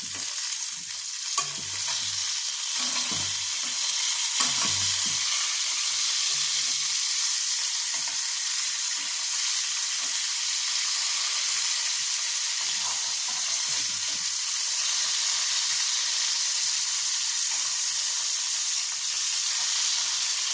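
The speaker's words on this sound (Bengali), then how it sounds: "আর অন্যদিকে দেখো আমাদের মাছগুলো এক পিঠ ভাজা হয়ে গেছে," Fish fry in hot oil in a home kitchen pan, a steady loud sizzle running throughout with occasional stirring and clatter of utensils, no voices.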